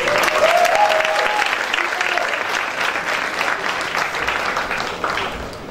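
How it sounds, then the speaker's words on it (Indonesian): Applause from an audience at a church sermon fills the room in a dense, sustained wash of clapping that slowly tapers off, with a brief voice sounding over it near the start. "tepuk tangan, tepuk tangan"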